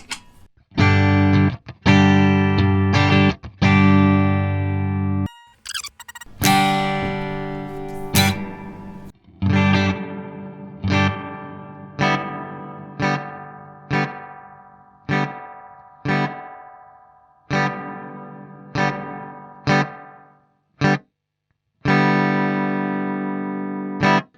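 An electric guitar played through a reverb effect pedal, a sequence of strummed chords ringing out one after another, each decaying with a lingering wash, loud and close with no speech.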